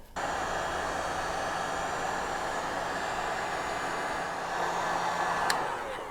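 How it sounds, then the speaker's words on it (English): A heat gun warms double-sided tape during a motorcycle build, a loud, steady blowing hiss that switches on at once and runs unbroken for several seconds before a faint click near the end. "Now I'm going to grab my heat gun and heat this stuff up a little bit"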